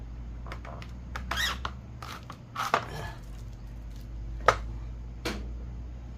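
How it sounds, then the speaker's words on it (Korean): A knife cuts into a tough hoof mushroom in a series of short, irregular crunchy scrapes and clicks, close and fairly quiet over a low background hum. "이것도 안을 썰어서 찌겠습니다"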